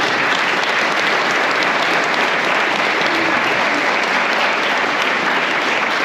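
Audience at a graduation concert giving sustained, even applause, a thick, steady roar of clapping from a large crowd.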